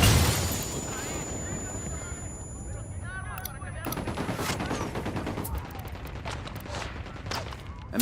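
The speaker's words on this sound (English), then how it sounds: "I'm opening fire." Rapid gunfire and explosions in the video game Ghost Recon Wildlands: dense, loud bursts of shots and booms that continue through the clip, with voices talking over the battle.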